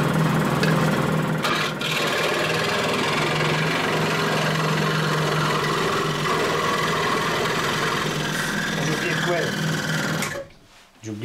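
Makita SJ 401 scroll saw running at medium speed, a loud continuous buzzing mechanical drone with fast reciprocating rattle, holding steady for about ten seconds before cutting off near the end.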